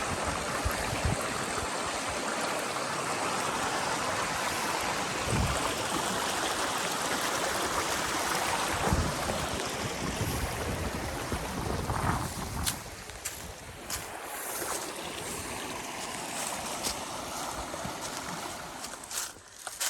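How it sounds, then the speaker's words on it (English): A rushing hiking-trail stream fills the scene as hiking boots are washed off in the water, with a steady loud wash of flow and occasional splashes and knocks near the microphone toward the end, with no talking. "Time to wash the boots off."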